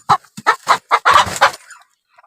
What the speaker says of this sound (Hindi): हेलो फ्रेंड्स, मेरे मुर्गे से मिलिए।